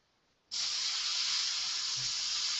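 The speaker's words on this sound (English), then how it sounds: "Spraying from around about 3 centimetres to 4 centimetres away now." An airbrush starts abruptly and sprays paint onto a skull from about 3 to 4 centimetres away, a close, steady, loud airy hiss that continues unbroken after a quiet start.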